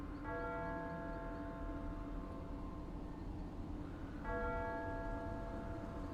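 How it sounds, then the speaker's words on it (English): Church bells ring with a steady, resonant tone over a low rumbling background, pausing briefly before the peals return. "you can hear also echoing through the wood of the hotel, the church bells"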